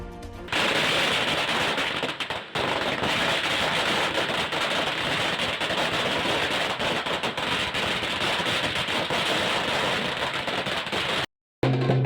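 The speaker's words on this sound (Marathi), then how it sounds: "यावेळी जोरदार फटाक्यांची अतिशबाजी करण्यात आली" Dense, continuous crackling bursts of firecrackers going off in rapid succession at a street celebration in Satpur, Nashik, loud and sustained, with a brief gap near the end.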